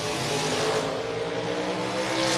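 Mustang and Camaro drag cars launching down a drag strip at a Fall Brawl race, a loud sustained engine roar that stays close and powerful for the whole moment, with no voices.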